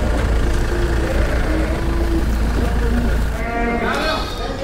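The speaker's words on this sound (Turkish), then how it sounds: "burada da abimizin kuzulu koyunları var." Ewes and their lambs bleat at an outdoor livestock market, several voices calling over a loud steady crowd and traffic hum, with someone talking nearby.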